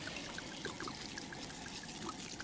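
Red wine pours over browned meat in a cooking pot, a steady trickling stream over a soft background sizzle, close and unbroken.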